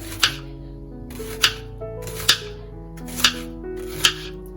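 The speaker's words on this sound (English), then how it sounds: "I'm going to slice my onion first" A knife slices through an onion on a cutting board in five crisp, evenly spaced chops. The cuts are close and clear, with a quiet kitchen background and no voices.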